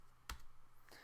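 A single sharp keystroke on a computer keyboard while entering numbers, then a fainter second tap near the end, both close and quiet with no speech.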